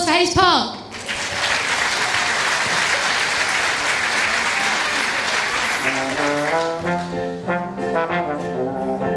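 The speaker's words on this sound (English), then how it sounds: "Round of applause for Hayes Park" An audience at a school performance breaks into sustained, dense applause that holds steady for several seconds before fading, as a sung or spoken tone emerges near the end.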